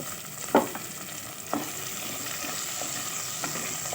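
Small onions (shallots) sauté in hot oil in a pan for Tamil kara kuzhambu, giving a steady broadband sizzle with a few sharp stirring scrapes near the start, alone and close.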